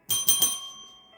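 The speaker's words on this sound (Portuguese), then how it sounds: "aciona o sininho das notificações" A notification bell rings three quick bright strikes in succession, then a clear metallic tone lingers and fades away.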